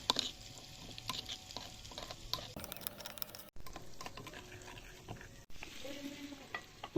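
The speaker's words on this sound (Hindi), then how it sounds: "तो इन मसालों को मिक्स करेंगे दही में अच्छी तरह से" Spices being stirred into yogurt in a bowl, wet scraping and squelching strokes in irregular bursts, close up, with brief pauses between movements and no speech.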